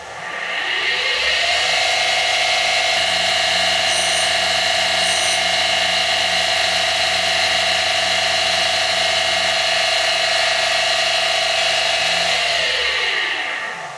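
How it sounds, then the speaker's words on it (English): A Deckel SO single-lip grinder runs steadily with a loud cooling fan on its VFD, a constant whirring drone with strong tonal hum that spins up at the start and winds down near the end, with no talking. "Once I start the VFD, I'm not gonna do any talking because, like I said, the cooling fan on that is pretty loud."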